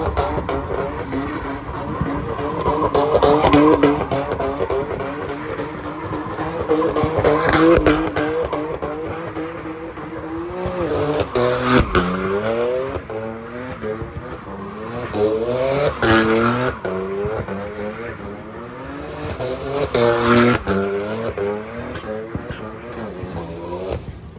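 A car does a burnout at a crowded car meet, its revving engine and squealing tires rising and falling over about 24 seconds, loud and close, with crowd voices and shouting underneath.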